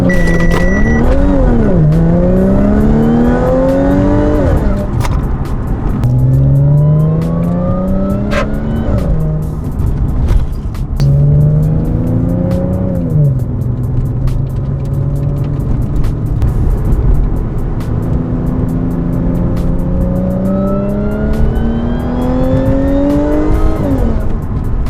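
A performance-tuned Audi S4 revs hard through its intake, several loud rising and falling engine sweeps in repeated bursts, close and dominant, with gear-change dips between pulls.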